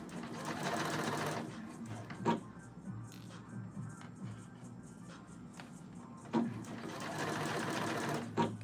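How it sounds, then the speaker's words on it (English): A small sewing machine runs in steady bursts while a mini skirt is sewn, stopping briefly between runs. Soft handling noises fall in the pauses. "A little sewing machine action, not too much."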